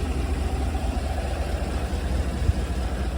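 A 2023 Isuzu NPR-HD box truck with a GM 6.6 liter V8 gasoline engine idles steadily nearby, a low, even rumble with no revving and no voices.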